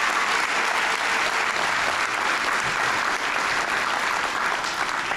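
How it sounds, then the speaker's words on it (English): Sustained loud applause from a large audience of graduates and parents at the TSIBA Business School graduation ceremony, a dense, even roar of clapping filling the hall without speech. "So a big round of applause to everyone and to the parents."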